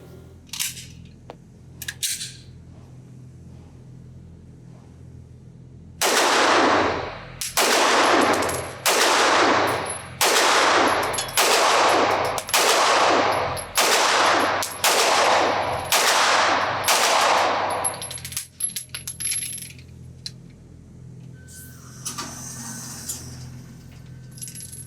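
Sig Sauer P320 Spectre Comp compensated pistol firing hollow point ammunition: about eleven loud, sharp shots in a steady, fairly quick string with brief gaps, close up, after a quiet start and before faint handling noise.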